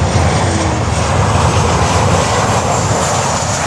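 A Boeing 787-8 landing on runway 12 at Miami airport gives a loud, steady, broad engine roar that holds without pause throughout.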